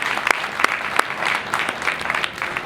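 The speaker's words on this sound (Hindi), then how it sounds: "जोर से ताली बजाइए अशोक।" A crowd at a Jain religious assembly in Rae Bareli claps loudly, with sharp individual claps standing out from a continuous patter of applause.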